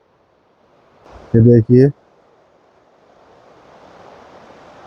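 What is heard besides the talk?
Yamuna river flowing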